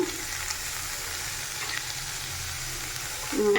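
Sliced carrots fry and sizzle steadily in a pan while being stirred, a constant close hiss with a slight swell near the end.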